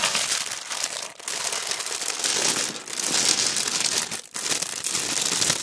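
Plastic packaging from a craft bead haul crinkles loudly and close, continuous rustling that stops briefly a few times between handlings.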